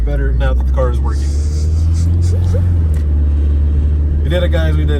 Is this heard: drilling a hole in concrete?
no